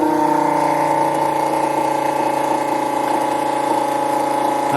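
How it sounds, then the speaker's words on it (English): An electric fuel transfer pump for a Kubota tractor runs with a continuous loud, steady motor hum and liquid flow, close and unbroken throughout, with no voices. "Now I'm turning the pump on."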